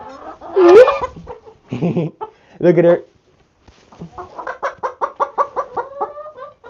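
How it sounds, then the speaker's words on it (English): A small hen clucks on the ground near a coop, first in a few loud squawky bursts, then in a quick rhythmic run of soft clucks; a person speaks briefly between the calls. "There's one small chicken on the ground I just need to grab"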